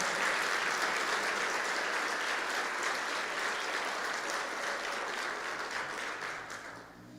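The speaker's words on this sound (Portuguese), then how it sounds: "Você pode aplaudir o nome de Jesus." A church congregation applauds in a steady, dense wash of clapping that holds for several seconds before tapering off slightly at the end, with no voices over it.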